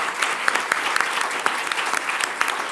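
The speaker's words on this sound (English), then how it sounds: "can we give a round of applause to our panellists?" A panel discussion audience gives a short burst of applause, a thick wash of many hands clapping together, steady and fairly loud.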